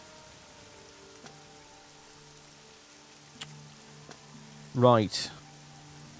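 Steady rain patters in the video game Oblivion, a soft, even hiss throughout with a few faint tones, and a brief spoken word near the end.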